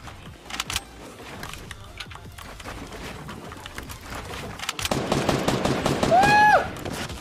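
Rapid pistol gunfire in the Fortnite battle royale video game rattles in quick bursts, growing denser and louder toward the end amid other game effects.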